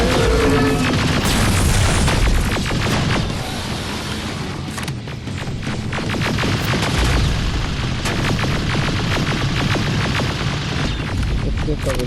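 Continuous, loud gunfire and booming blasts in Terminator: Resistance roar almost without pause, with rapid bursts layered over a heavy rumble and game voices.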